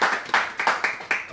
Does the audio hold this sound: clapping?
yes